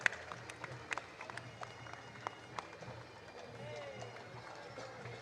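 Queensland Police horses' hooves clip-clop at a Toowoomba Carnival of Flowers floral parade, faint scattered hoof strikes at a distance over crowd murmur and an announcer speaking.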